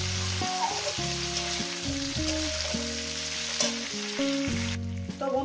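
Food frying in a pan, a steady hiss of sizzling beneath loud background music with changing tones, ending with the sizzle briefly cutting out.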